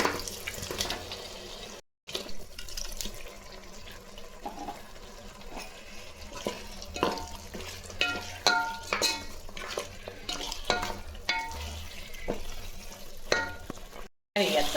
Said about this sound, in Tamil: இப்போ நம்ம வேக வச்சு எடுத்த கறி இதில் சேர்த்துக்கலாம்.